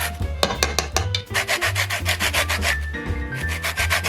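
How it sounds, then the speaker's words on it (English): Lemon zest grated for whole wheat blueberry muffins, heard as quick rhythmic rasping strokes against the grater, close and fairly steady, with no voices. "I will be adding some grated lemon."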